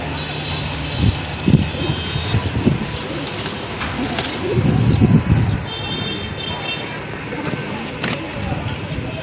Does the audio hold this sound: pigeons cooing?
yes